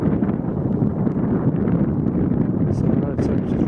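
Strong wind roars and buffets the microphone in a steady, loud rush during a winter walk in snow from Cuxton to Sole Street, with a voice faintly present underneath.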